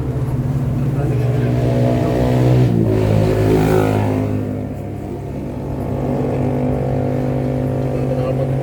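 A motorcycle engine revs and drones steadily on a mountain road, swelling to a louder rev midway before settling back to a rumbling idle, close and continuous.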